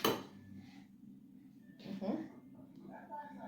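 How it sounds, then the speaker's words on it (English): A small child taps an egg against a bowl while making pancakes at home, giving a sharp crack near the start and another clatter about two seconds in, with an adult talking between the knocks. "And you break the egg."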